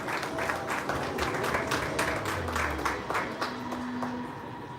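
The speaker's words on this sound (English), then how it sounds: "let's give him a big round of applause and welcome him on stage" Audience applause welcoming a speaker onto the stage at a T20 cricket league launch event, a sustained wash of many people clapping at moderate distance with faint tonal hum and murmur mixed in.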